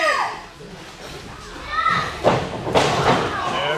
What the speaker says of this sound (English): There's just a plain old stomp to the back.